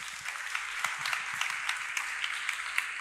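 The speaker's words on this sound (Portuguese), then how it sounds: "Uma salva de palmas aí à mulherada." Church congregation applauding and clapping for the women after a women's worship service, a steady wash of many hands at moderate distance with scattered sharper claps.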